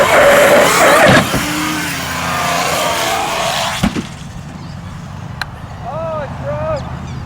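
A Redcat Vigilante RC truck racing, its electric motor whining and revving loudly at first, then fading to quieter driving noise with occasional clatter and faint background sounds.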